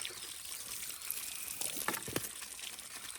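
Water is sprayed and sucked from a bucket by a device, giving a faint, steady hissing spray with a few brief splashy gurgles midway, quiet and without talk.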